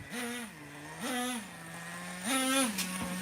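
A Traxxas T-Maxx Classic 2.5 nitro RC truck engine, not fully warmed up, revs three times: whiny buzzing rises that fall back to a rough idle between each. The revs are fairly faint and heard alone.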